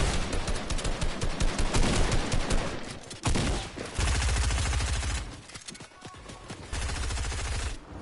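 Rapid, dense gunfire in a video game: sustained automatic bursts rattle loudly and almost without pause, broken by brief gaps and heavy thuds, with no talk over it.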